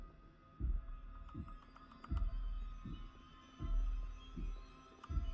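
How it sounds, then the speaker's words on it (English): Deep muffled thumps in a horror video game, spaced roughly every second like a slow heartbeat or heavy footsteps, over a low ambient hum, with faint chiming tones, no talking. "I can't tell if that noise is meant to be my heartbeat or her footsteps."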